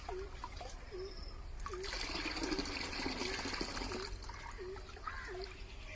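Twenty-one-day fermented fish water is poured out on a Kerala farm, a faint steady trickle and splash with small birds chirping repeatedly in the background.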